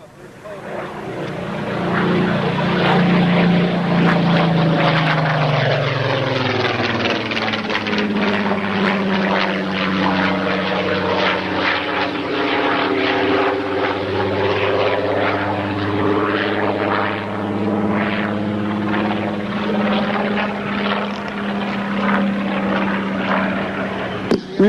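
A Griffon-engined Supermarine Spitfire Mk18 drones steadily overhead during a demo flight at Reading, Pennsylvania, its engine pitch sliding downward as it passes, loud and continuous.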